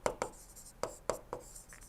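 Chalk or marker tapping and scratching on a board as a lecturer writes out the first law equation, with several quick close strokes in an irregular rhythm and no speech.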